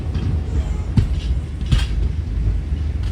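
A Yesvantpur–Puri Garib Rath SF Express passenger train rumbles through the Nallamala forest, heard from on board as a steady, loud low drone. Two sharper wheel clacks on the rails stand out over the rumble.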